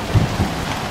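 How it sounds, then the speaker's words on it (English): Heavy wind and rain at a wilderness campsite in Canada during a storm, a loud roaring rush with two deep buffeting gusts in one second, with no talk. "It's so loud and there's so much wind and so much rain."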